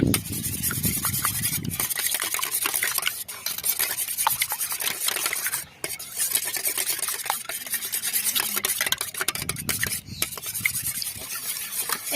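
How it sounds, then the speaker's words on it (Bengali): Eggs being whisked with ground black pepper and salt make a fast, steady clatter of utensil against bowl, close and loud, continuing almost without a break. "এবার আমি ভালো করে গুলে নেব ডিমের সাথে গোলমরিচ গুঁড়ো আর লবণটা।"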